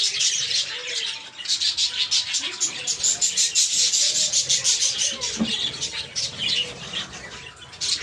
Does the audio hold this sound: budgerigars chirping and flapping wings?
yes